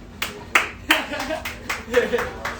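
An audience at a late-night comedy show claps for a comedian being introduced, a few sharp hand claps building into scattered applause, with voices mixed in over the clapping.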